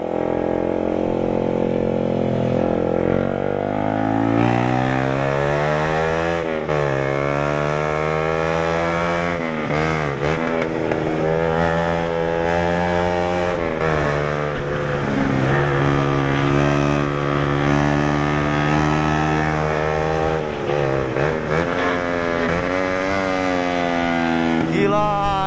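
Motorcycle fitted with a CLD Monster slip-on exhaust engine braking on a test ride, a steady loud droning note with harmonics sweeping down and up as revs fall and rise, continuous throughout with no talk.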